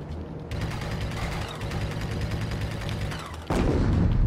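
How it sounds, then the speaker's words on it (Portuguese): Explosions and blasts in the space shooter game Dead Star, a dense rumbling barrage of booms with a heavier burst near the end, loud and continuous without talk. "Algo explodiu na minha cara"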